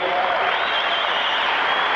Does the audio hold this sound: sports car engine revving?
no